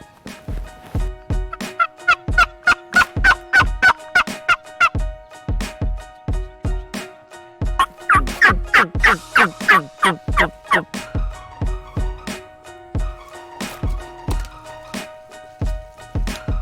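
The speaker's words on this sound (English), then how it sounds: "These turkeys are gobbling, but they're not responding to calls." Wild turkeys gobble repeatedly during a turkey hunt, loud rattling bursts that overlap and come in quick rhythmic runs, mixed with higher clucks and yelps, several birds fairly close, with no talking.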